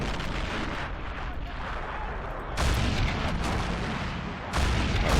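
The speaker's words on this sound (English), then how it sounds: "Look at that artillery go." Artillery fire in Men of War: Assault Squad during a 1942 Stalingrad outskirts battle, a continuous heavy roar of rumbling blasts and booms that surges louder twice, dense and close without pause.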